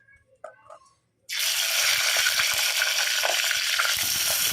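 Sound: tomato pieces frying in oil for chutney

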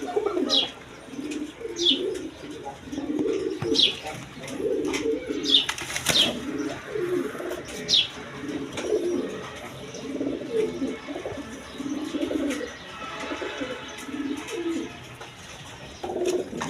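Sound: large pigeons cooing

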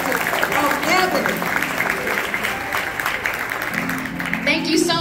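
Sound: audience applause for the Mighty Shades of Ebony

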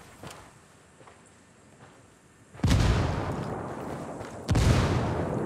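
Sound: grenade explosion in a video game

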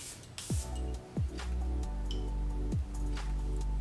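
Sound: spraying Kayali Eden Juicy Apple perfume

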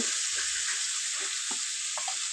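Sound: chili powder and turmeric stirred with spatula in hot oil

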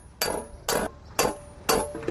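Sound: hammer beating metal on a stake in coppersmithing

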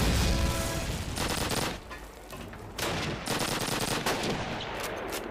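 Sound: machine gun fire in Call of Duty video game

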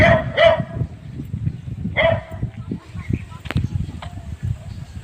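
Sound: dog barking

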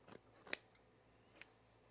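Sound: scissors trimming fabric facing of a sewn jacket

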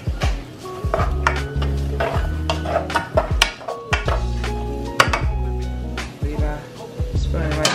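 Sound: stirring onion in a pot

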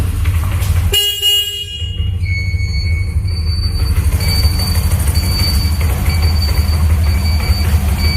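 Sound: Bajaj Platina motorcycle engine running

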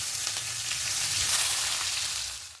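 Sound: nigella, cumin, dried chillies and chopped onion frying in oil

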